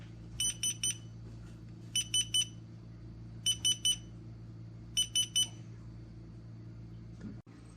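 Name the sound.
LED digital hourglass timer alarm going off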